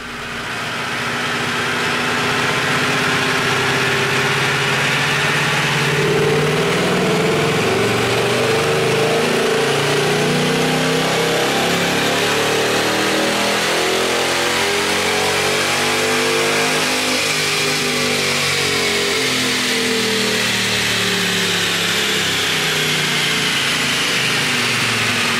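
A 2018 Ford Mustang GT with the third-generation Coyote V8 runs on a dyno, the engine climbing steadily through a long, loud wide-open pull before the pitch eases back down, with no talk over it.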